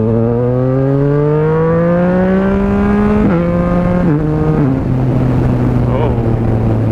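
A Yamaha MT-09 motorcycle fitted with a Black Widow 200mm titanium exhaust accelerates hard, its loud close engine note climbing steadily through the revs, breaking with gear changes, then settling into a steady drone.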